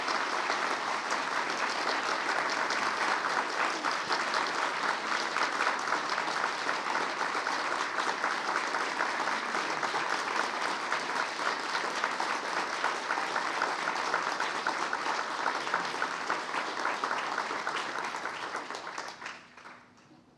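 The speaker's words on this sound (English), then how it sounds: "Let's give her another round of applause," Audience at a hacker conference keynote giving a long, sustained round of applause, dense and even clapping throughout that fades out near the end.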